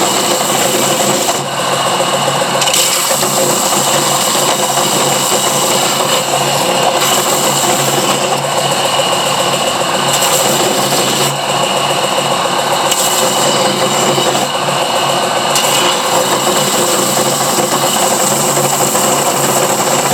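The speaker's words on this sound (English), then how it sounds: "put on some medium stuff, 80 grit, and I'll clean up those edges with this sanding thingy bopper." A power sander with 80-grit sandpaper whirs loudly and steadily on the edges of a fossil shark specimen, its gritty rasping hum continuing without pause for the whole stretch.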